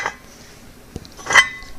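Cast iron pans clink and clatter as they are handled and set down after baking on seasoning, a few sharp metallic knocks, close and fairly quiet, with no speech.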